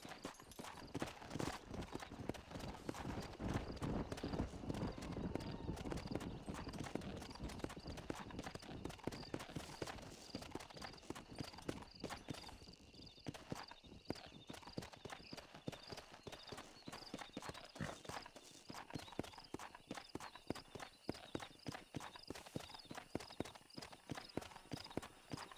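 Horses' hooves clip-clop steadily in Red Dead Redemption, a dense, continuous patter of several horses moving together, moderately loud and close, with no talk over them.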